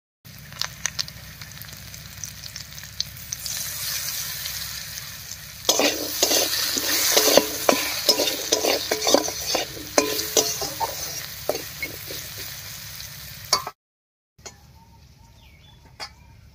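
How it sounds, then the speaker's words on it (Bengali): Jackfruit seeds sizzle steadily in a hot pan while a utensil scrapes and clacks against it in a busy stirring stretch, followed by a brief pause and quieter sizzling. "কাঁঠালের বিচিটা বেশ একটু ভাজা ভাজা হয়ে গেছে"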